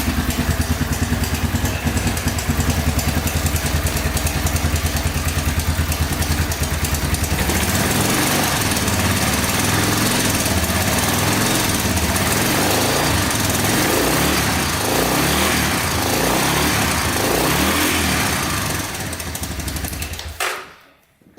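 Three-wheeler engine running loud and close with a rattling cam chain, a steady busy drone that shifts in texture partway through before cutting off abruptly at the end.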